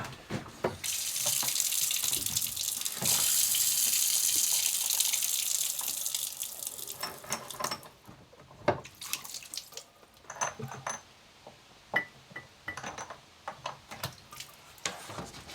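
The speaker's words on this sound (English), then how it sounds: "Let me try and take that tap off. Just drain the water." Water runs steadily from a narrowboat tap that has been taken off, a loud continuous gush in the first half that stops abruptly, followed by scattered drips, knocks and splashes.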